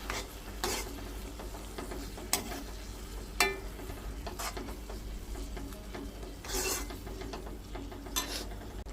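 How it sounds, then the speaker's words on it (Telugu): Onion being stirred through a pan where chicken is cooking, soft scraping and stirring strokes over a faint low sizzle, quiet and close, with a few sharper scrapes of the spoon. "ఇప్పుడు ఈ ఆనియన్ మొత్తం కలిపేసుకోవాలి ఇందులోనే"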